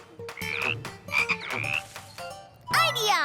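Cartoonish frog croaks, several bright warbling ribbits in quick succession with short gaps, ending in a louder burst of croaking.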